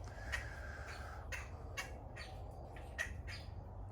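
Birds squawking outdoors in Florida, several harsh calls scattered over a few seconds above a steady low background rumble, no talking.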